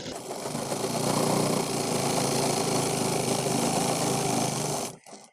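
A sewing machine runs steadily while stitching a seam on a pair of pants, a continuous loud mechanical whir for about five seconds that stops abruptly near the end.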